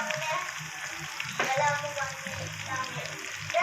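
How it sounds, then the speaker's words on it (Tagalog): Leftover pork lechon sautéed in a pan while cooking ginisang munggo, giving a steady soft sizzle with an occasional stir or scrape, fairly quiet and close. "Tagalan natin sa paggigisa para lumabas lahat yung lasa ng ating lechon."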